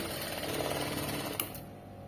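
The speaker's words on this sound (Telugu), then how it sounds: "సో ఇక్కడ మనం లోపల నుంచి ఒక కుట్టు అనేది వేసుకుందాం." A sewing machine stitches a seam from the inside, running as a steady rapid mechanical whir close by that cuts off abruptly near the end.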